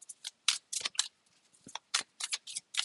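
A new deck of cards being shuffled gives a quiet series of crisp riffling bursts and flicks, close and irregular, with no talking.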